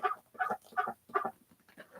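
A small, talkative call duck gives a quick series of close, sharp quacks in short bursts, with brief pauses between them and no voices.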